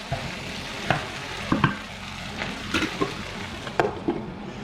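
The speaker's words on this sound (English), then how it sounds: "We'll mix the onion petals well with the bhindi and the rest of the masala" Okra (bhindi) with onion petals and masala is stirred in a sizzling pan, with a spoon scraping and knocking in irregular strokes over a continuous close frying hiss.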